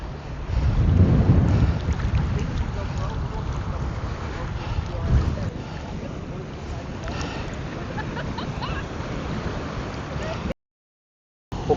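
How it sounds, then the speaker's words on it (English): Strong gusting wind buffets the microphone at an overcast white-sand beach on Klein Bonaire, a steady loud rumble with heavier gusts early on, cutting off abruptly near the end. "it's a really, really windy day here at No Name Beach"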